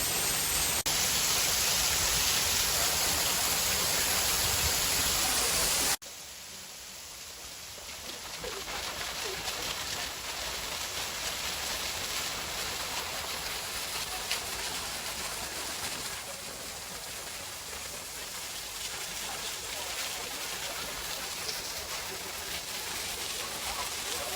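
Kurşunlu Waterfall in Antalya, a small waterfall with tourists nearby, gives a constant broadband rush of falling water. It is loudest in the first few seconds, then settles to a steady hiss with faint voices underneath.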